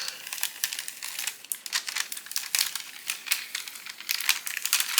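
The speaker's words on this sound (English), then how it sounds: "And I'm going to peel this back" Continuous crinkly crackling as paper backing is peeled off a card embellishment for a Halloween card, close and steady with dense rapid crackles throughout and no talking.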